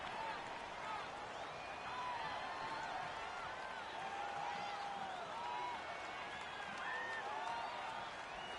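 Stadium crowd roar in a PS4 football video game, a constant low-level wash of noise with faint whistling and cheering tones, under commentary.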